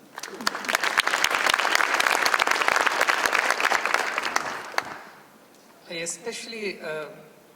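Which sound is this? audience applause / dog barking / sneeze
audience applause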